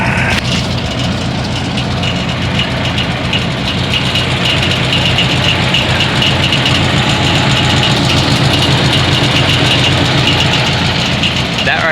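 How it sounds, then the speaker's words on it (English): A 1962 Ford 801 Select-O-Speed tractor engine idles while chained down on a trailer, giving a steady, loud, close rumble with an even chugging texture that holds for the whole stretch without letting up. "That right there is sitting at idle."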